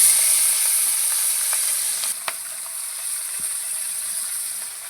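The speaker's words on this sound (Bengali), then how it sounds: "এবার আমি তেলের মধ্যে দিয়ে দিচ্ছি চুনো মাছগুলো।" Small mixed river fish frying in hot mustard oil in a wok, a steady close sizzle that fades slightly over the seconds, with a couple of faint utensil taps.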